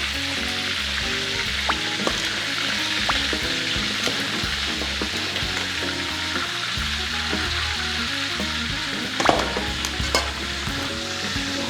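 Crab legs and claws sizzle and crackle loudly in hot frying oil, a dense and continuous hiss with a few sharper pops near the end and no talking.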